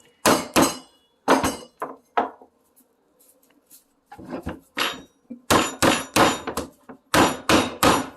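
A coconut is struck repeatedly to crack it open, sharp hard clanging knocks coming in quick pairs and clusters with short pauses between, close and loud, with no voices.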